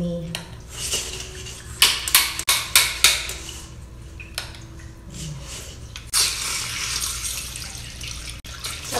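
Water flushes out of a tap to clear sandy dirt after plumbing work, splashing and rushing steadily with sharp clanks and knocks of fittings, while a person talks over it.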